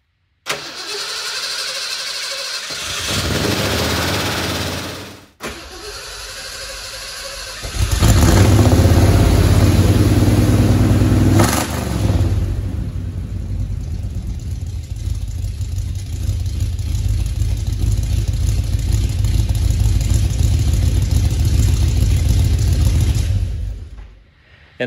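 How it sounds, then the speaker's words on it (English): A Ford Bronco engine cold-starts after a brief crank, catches loudly and revs before settling into a steady, rough idle close by. "My Ford Bronco I got from Kevin at Junkyard Digs."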